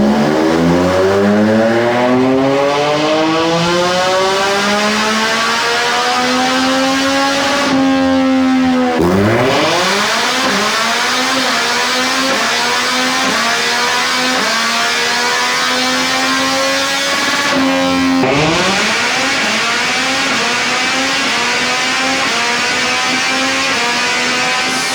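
A Yamaha MT-09 motorcycle engine revs hard on a dyno during tune runs, climbing steadily in pitch through long loud pulls, dropping briefly around two breaks, then winding up again with a harsh, sustained roar.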